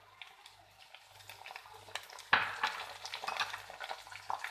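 Garlic and tomatoes cooking in a pan for turnip curry, a soft sizzle with stirring and spoon scrapes that grows louder as ingredients are added midway.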